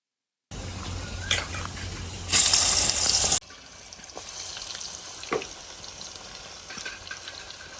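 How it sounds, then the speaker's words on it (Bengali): Eggplant pieces coated with salt and turmeric frying in oil in a pan, a close steady sizzle with a louder hissing burst early on and occasional light clinks of stirring. "এই তেলের মধ্যেই আমি বেগুনগুলোকেও ভেজে নেব।"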